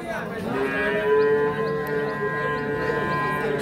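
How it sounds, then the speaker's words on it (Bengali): A Sahiwal bull calf, about seven to eight months old, at a cattle market in Bangladesh gives a long, tonal moo that swells and holds nearby against faint market background noise. "এই পাশে একটা শাহিওয়াল ষাঁড় বাছুর দেখছিলাম"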